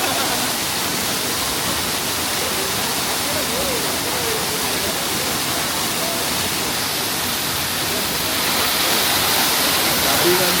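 Waterfall at Cotopaxi, a steady broadband roar of falling water that fills the whole clip at constant loudness, close and continuous with no break.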